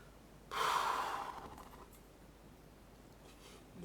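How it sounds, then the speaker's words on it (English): A person yawns once, a loud breathy exhale swelling up and then trailing off over a couple of seconds, close to the mic in a quiet room. "this was a yawn."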